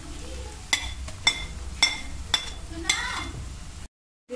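A spatula scrapes and clinks against a pan while ginger-garlic paste is stirred into fried golden-brown onions. About five sharp metallic knocks ring out at a steady pace over a soft sizzle, then it cuts to silence.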